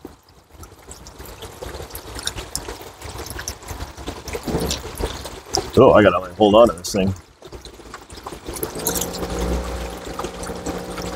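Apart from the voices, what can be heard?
water being pumped out of RC submarine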